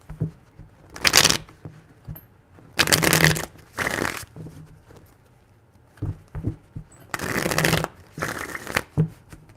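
A deck of tarot cards is shuffled up close during a reading, with several short, crisp riffling bursts separated by brief pauses and light handling taps, and no voices.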